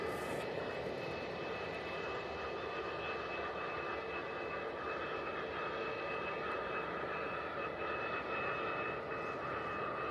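A Ryanair plane touches down at Manchester Airport, its engines giving a steady, moderately distant roar with a constant whine layered over it, unbroken and without talk.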